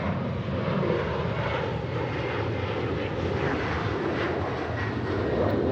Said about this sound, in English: there's a plane going by. I don't know if you can hear it.